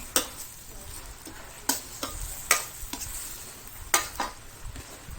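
Cabbage stir-fried in a pan with a steady close sizzle, broken by sharp scraping clicks of the utensil against the pan every second or so.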